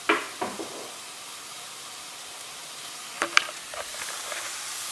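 Garlic and butternut squash sizzling in a pan with a little liquid, a steady soft hiss throughout, broken by a few light knocks and clinks from a utensil near the start and middle.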